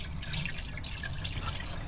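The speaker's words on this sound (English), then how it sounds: "we're gonna pour some diesel, ATF, and acetone mix down." A diesel, ATF and acetone mix is poured down the intake of an abandoned Thunderbird engine that has sat for 40 years in a junkyard, giving a soft, steady trickle close by and faint, with no voices.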